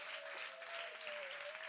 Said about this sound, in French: je pense qu'il faut leur faire un tonnerre d'applaudissements